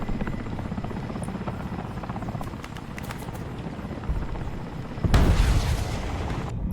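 Mi-8AMTSh transport helicopter in War Thunder, its rotor and engine drone steady and close throughout, with a louder burst of engine roar or gunfire near the end.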